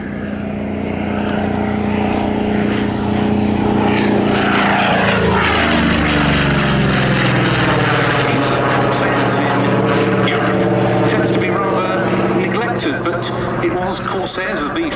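A Fleet Air Arm Corsair propeller fighter flies by at the Duxford summer air show, its loud engine drone sweeping in pitch as it passes close, with a commentator talking over it.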